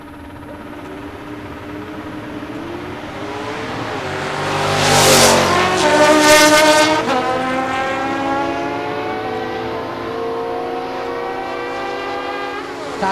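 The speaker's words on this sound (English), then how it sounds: "Alan Ross on 1059, so pretty good head start for the Mustang" A Mustang drag car and a motorcycle race at a drag strip, their engines screaming as they launch and rise in pitch, peaking loud as they pass and then fading into the distance.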